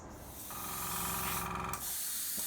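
Spray can hissing steadily for about two seconds, laying down first coats of paint on a horror bust of the Creature from the Black Lagoon, close and fairly quiet.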